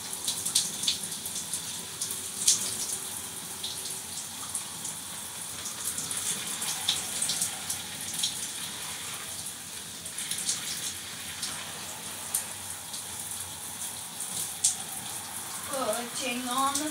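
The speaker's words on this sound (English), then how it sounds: "Wash off your washcloth." Water runs steadily as a washcloth is rinsed during a shower, a continuous wash of splashing with faint background voice, ending in a brief burst of tonal noise.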